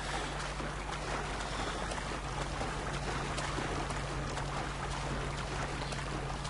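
Boats circling on a river in Watch Dogs churn through water in a steady wash of engine hum and splashing, a constant noisy drone with no talking.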